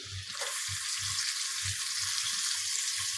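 Chopped ginger and onion drop into hot oil in a frying pan for an eggplant and dried fish dish, setting off a steady, close sizzle that holds without a break.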